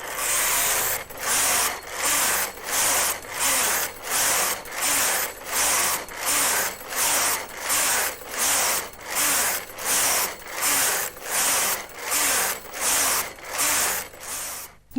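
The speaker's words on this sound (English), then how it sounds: "That means the machine's ready to begin knitting on row 1 of our stitch pattern." Brother KH-950 electronic knitting machine knitting a stitch pattern, its carriage swept back and forth in a steady rhythm of about fifteen loud, even rasping passes, close and alone with no talk.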